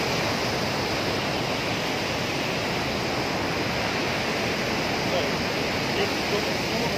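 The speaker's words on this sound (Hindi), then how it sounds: "वाटरफॉल ये आप देख सकते हैं, ये है कुट्टन वाटरफॉल" The Kuttan waterfall in the Neelum Valley of Kashmir gives a constant, dense rush of falling water that stays loud and even throughout, with no talk over it.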